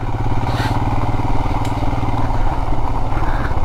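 A Royal Enfield Himalayan motorcycle engine running after sitting unused for one and a half months, with a loud, close, steady pulsing idle and some clatter, in rainy Himachal forest country.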